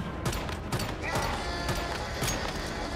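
Enemy gunfire in the video game Once Human, with dense rapid bursts of shots cracking over a busy, noisy game mix.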